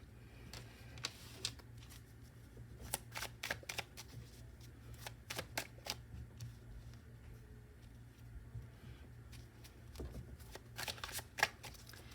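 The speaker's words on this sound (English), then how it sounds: "Sorry, you guys have a lot of cards. I'm trying to scoot this over." Tarot cards shuffled and slid across a surface in quick crisp bursts of riffling and flicking, broken by short pauses, close and quiet in a still room.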